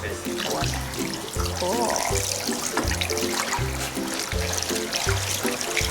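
Water runs steadily from a tap while something is rinsed off, a continuous hiss under a thumping rhythmic background, with a brief spoken word.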